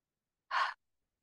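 A single short, soft breath is drawn during a calm yoga session, a brief airy rush heard close and alone against complete silence.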